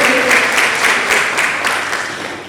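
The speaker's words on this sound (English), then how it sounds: "Can everyone clap for her?" An audience at a tech panel discussion for girls in Accra, Ghana claps steadily, a full, close burst of applause that gradually fades.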